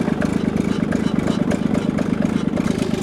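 Kubota tractor diesel engine idling steadily after a cold start, a loud, close, continuous low rumble with an even chugging pulse throughout.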